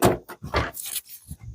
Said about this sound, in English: Squeaky door.